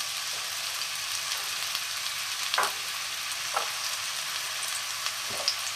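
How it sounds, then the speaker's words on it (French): Finely sliced onion frying in sunflower oil in a wok, a constant hiss of sizzling with a few soft stirring scrapes, close, without talk. "Dans mon wok, j'ai mis une cuillère à soupe d'huile de tournesol. J'y mets mon oignon que j'ai émincé finement."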